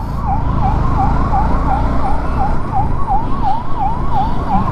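An ambulance siren wails loud and close on the road, its rising and falling tone cycling rapidly and repeatedly over the rumble of traffic and engine noise.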